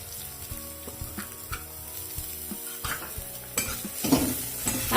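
Chopped garlic and ginger fry in a pan for veg momos, with a light sizzle under repeated spatula scrapes and taps on the metal. The sizzle grows louder and busier near the end.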